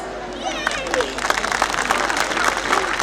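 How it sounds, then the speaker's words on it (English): Applause from an audience at a school annual day, greeting grade six student performers; steady dense clapping fills the short stretch, with a few voices and cheers mixed in. "let's welcome our grade 6B performers with thunderous applause"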